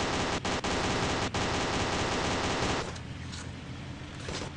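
Mobile video game gunfire from The Gang Auto, a loud continuous burst of rapid shots with a few sharp cracks, then it drops to a quieter noisy rumble, with no talk.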